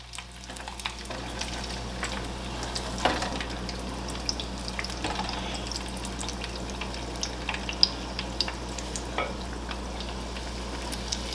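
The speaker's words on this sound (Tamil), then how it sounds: "ஆழமான எண்ணெயில் பொரிச்சு எடுங்க" Roti fries in deep oil with a steady bubbling sizzle and small crackling pops, close and continuous, with no one speaking.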